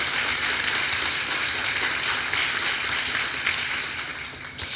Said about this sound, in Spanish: Si ese aplauso es para el Señor,